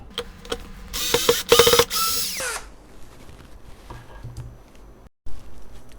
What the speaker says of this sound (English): when you're taking them out, you can put the machine in the reverse position and basically pull this thing out